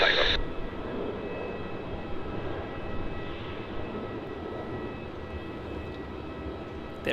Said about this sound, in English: runway 16, cleared for takeoff